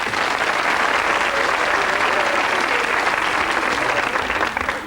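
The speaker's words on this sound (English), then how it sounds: "generous applause from Debbie and Sheila" Studio audience of a late-1980s British television game show applauding, a dense, loud and sustained burst of clapping with no voices over it.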